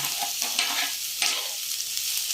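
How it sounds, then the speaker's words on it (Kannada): Onion, capsicum, cabbage and carrot fry in a pan for egg rolls, a steady bright sizzle with a few stirring scrapes across the short stretch, close and fairly loud with no voices. "ಇವಾಗ ಈರುಳ್ಳಿ ಮತ್ತು ಕ್ಯಾಪ್ಸಿಕಮ್ ಹಾಕಿ ಫ್ರೈ ಮಾಡ್ಕೊಳ್ಳೋಣ."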